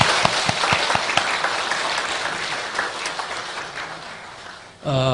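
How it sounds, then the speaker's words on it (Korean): A church congregation claps in encouragement for the teachers during an afternoon worship service, loud close applause with a few sharp individual claps early on, fading out before a brief final burst of other sound. "우리 선생님들 다시 한번 격려의 박수 한번 주시면 좋겠습니다"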